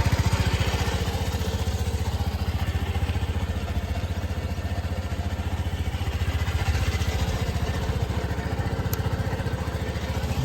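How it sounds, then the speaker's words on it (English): A 2024 Keeway Fact 125 motorcycle idles while warming up, its small single engine putting out a loud, steady, rapid putter that runs unbroken and close by, with no talk over it. "I'll just let the bike warm up."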